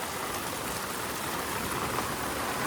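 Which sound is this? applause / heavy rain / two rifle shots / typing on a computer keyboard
heavy rain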